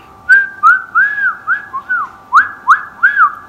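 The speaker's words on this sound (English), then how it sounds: "Yes, I can whistle." A person whistles a short, bright tune alone, with about nine close, clear notes in a quick, uneven rhythm.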